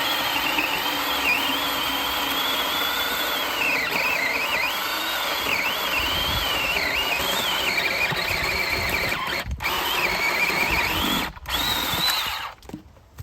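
A Black and Decker 20V 10-inch electric chainsaw with a replaced motor cuts through a wood round, a loud steady whining motor with wavering pitch as the chain bites, dropping out briefly near the end.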